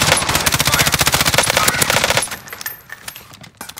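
Rapid automatic gunfire in the Warzone video game on the Caldera map rattles loudly and close in a sustained burst, then breaks into scattered quieter shots.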